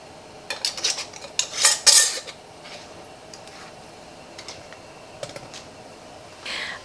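Metal lids and screw bands being placed onto glass canning jars of sweet potatoes, a cluster of close clinks and light taps followed by a few softer clicks.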